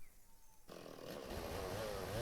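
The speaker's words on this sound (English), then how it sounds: "Now pick up the chainsaw." A chainsaw in the video game Lumberjack's Dynasty starts up after a quiet moment and drones steadily and loudly, its revving pitch wavering slightly as it runs on.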